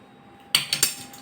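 A metal spoon stirs masala sweet corn in a bowl, giving three quick, close clinks against the bowl's side in under half a second, with nothing else heard.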